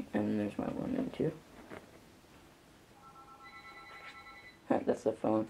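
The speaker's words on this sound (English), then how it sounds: "That's the phone." A telephone rings with a steady electronic tone, fairly faint and held for a couple of seconds in the background between stretches of close speech.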